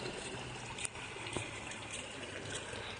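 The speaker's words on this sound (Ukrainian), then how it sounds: "Прорвало трубу. Тече вода вже зранку, одну годину." Water pouring from a burst pipe floods a city street in Dnipro, a steady broadband rush of flowing water that holds constant throughout, with no voices.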